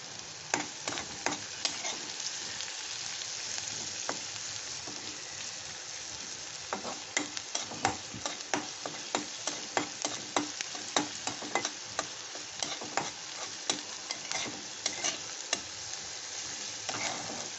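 Onions softening in a frying pan with salt sizzle steadily, with frequent scraping stirs building into a busy rhythm of clicks and scrapes over the hiss, close and moderately loud, no talking.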